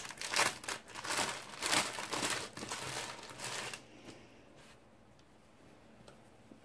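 Plastic wrapping around a Groot t-shirt from Guardians of the Galaxy Vol. 2 merchandise, crinkled and pulled open up close in loud rustling bursts, then a few quieter crackles as the handling slows.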